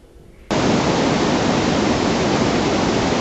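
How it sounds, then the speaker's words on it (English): The Mandakini river near Gaurikund on the Kedarnath route roars as a loud, steady broadband rush that starts abruptly after half a second and continues unbroken. "This was the route going towards Kedarnath and this was river Mandakini."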